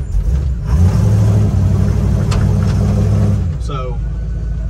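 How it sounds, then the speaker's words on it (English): A 1947 Hudson pickup truck's engine, left abandoned for three years, runs loud and rough against dragging brakes, its low drone stumbling and surging for several seconds before dropping away. Then a brief squealing sound follows. "it's fighting itself back to a stop, and it's making it stumble and hiccup."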